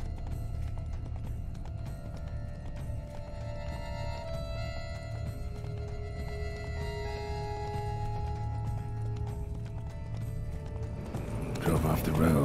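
Video game horse, from The Witcher 3: Wild Hunt, with a steady clip-clop of hooves at a fast gait throughout, with music and background layers under it, growing briefly louder near the end.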